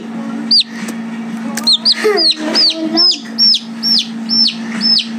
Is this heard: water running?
no